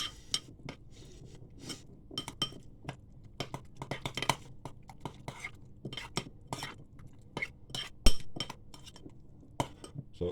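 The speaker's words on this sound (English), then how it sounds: "And then we'll just give that a quick mix" Ingredients are quickly mixed in a bowl for healthy homemade fish and chips, a busy run of light clinks and taps as a utensil strikes the bowl's sides, close and irregular, with no talking.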